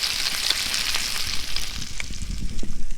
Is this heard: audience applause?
no